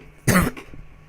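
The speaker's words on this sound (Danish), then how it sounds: "Undskyld, jeg hoster så meget." A single sharp, close cough bursts out loudly, followed by a brief throat-clearing rasp, with no talking.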